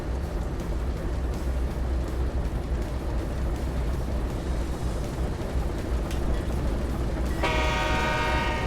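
A model train's horn sounds near the end, a loud steady toot rising over the continuous rumble of a P&B layout train running close by.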